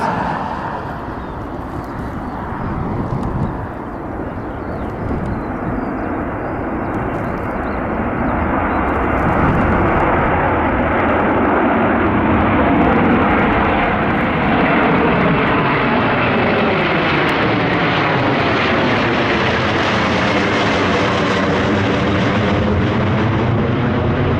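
A tanker aircraft takes off bound for Nellis Air Force Base, its jet roar building to a loud, sustained rumble with a slowly shifting whine as it climbs away, no voices over it.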